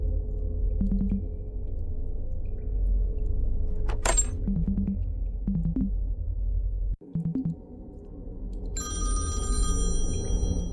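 Telephone ringing in The Textorcist, a repeated electronic ring in short bursts over steady game music, with a brief cutout and a bright chime near the end.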